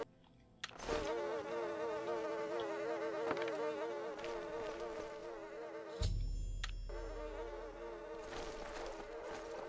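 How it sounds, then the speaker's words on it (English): Several flies buzz steadily and close by in the video game Oblivion, a continuous droning whine that wavers in pitch, with a brief low thump partway through. "I hear flies buzzing."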